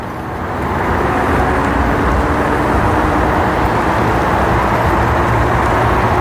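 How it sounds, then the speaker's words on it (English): A G-Force RS e-bike with six-point suspension runs at full throttle toward top speed on a road. The sound is a steady, loud rush of wind and motor noise that builds over the first second, then holds constant. "Let's do just throttle to the max speed."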